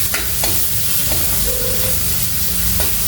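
Chopped onion fries and sizzles in a pan for lemon rice, with a steady loud hiss broken by scraping stirs of a spoon, close up and without talk.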